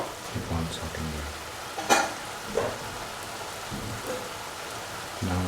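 Mushroom stew paste thickened with crushed tomatoes sautéing in a pan, a soft, steady crackling hiss heard faintly throughout, with brief voice sounds near the start.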